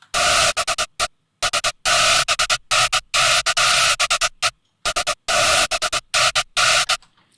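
Bright, buzzy Serum synth chords run through a phaser with a gritty, guitar-amp-like distortion, played in choppy rhythmic bursts separated by short silences.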